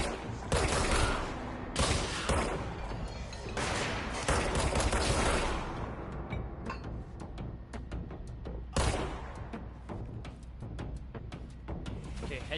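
Bursts of rapid gunfire and heavy weapon blasts from the video game Control, loud and dense, with a brief pause before more shooting, and a voice speaking briefly over it.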